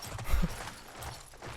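Galloping horse hooves in the video game Battlefield 1, a quick run of heavy thuds followed by softer repeated beats amid game noise.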